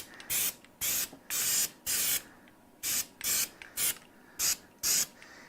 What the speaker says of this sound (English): Just spraying the surfaces of this lightly.